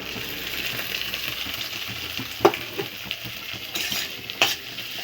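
Half-boiled lentils go into a pan of fried onions, giving a steady sizzle with a couple of sharp metallic clinks from a spoon or pan partway through.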